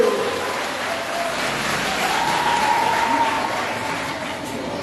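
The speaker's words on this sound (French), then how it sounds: "acclamez encore une fois les deux protagonistes" Steady applause from a school audience at a quiz final, cheering the two contestant teams, a broad continuous clapping wash that holds evenly throughout with faint voices mixed in.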